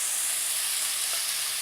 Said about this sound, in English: a little bit of vinegar. And just to accentuate the sweetness, some caster sugar. And we'll stir that in.